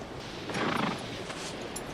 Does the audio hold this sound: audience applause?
no